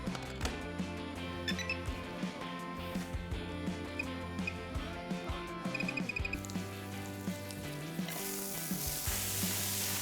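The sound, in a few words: lardo, guanciale and onions frying in a pan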